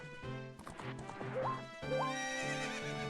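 Horse in the video game The Legend of Zelda: Ocarina of Time neighs with rising whinnies twice over steady clip-clop of hooves and layered game music, loud and close throughout.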